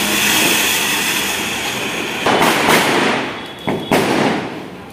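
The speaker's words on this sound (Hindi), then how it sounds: "बम बम गन मार रहा है हर जगह" Diwali firecrackers bursting around a street in Shillong, Meghalaya, with a loud continuous crackling hiss broken by several sharp bangs, some close and some farther off.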